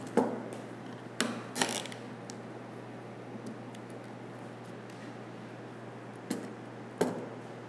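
Zip ties being ratcheted tight on a compound bow, heard as a few short clicking bursts spread over a quiet stretch, close and moderately loud over a steady low hum.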